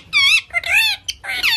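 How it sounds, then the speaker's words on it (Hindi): A pet parrot squawks loudly and close by in three harsh, rising-and-falling calls with short gaps between them and no talk. "तो ये है बिट्टू का तोता,"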